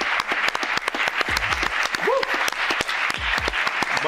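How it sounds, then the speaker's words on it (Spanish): Applause from a crowd at a boxing weigh-in event for fighters Misho and Shelao, a dense sustained clatter of claps with a voice rising over it partway through. "¡Aplausos para Misho y Salao!"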